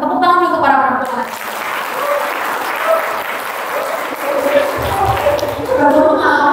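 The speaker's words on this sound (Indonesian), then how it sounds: "Tepuk tangan juga para perempuan." An audience at an Indonesian Islamic education fair session claps in sustained, dense applause that continues throughout, with a voice talking over it.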